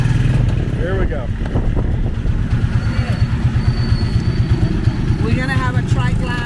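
A motor trike rolls along a city street in the Philippines, its engine running steadily up close with a low, pulsing rumble, while people talk over it and traffic passes.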